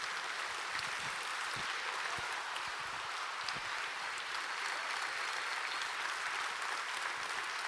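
A church congregation at a Sunday morning service claps energetically in praise, a steady even wash of applause heard from some distance and fairly quiet in level.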